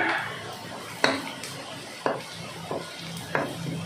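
Sautéing in hot cooking oil for adobong sitaw: a low background sizzle broken by four or five sharp clanks of a utensil against the pan, under quiet talk.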